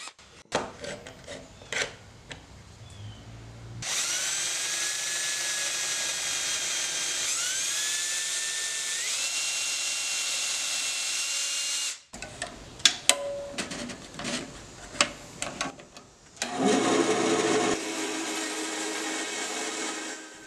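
A power drill boring pinholes through knife handle scales, a sustained high whine that shifts pitch as the bit bites, then stops, with clicks and handling noises before a second shorter burst of drilling.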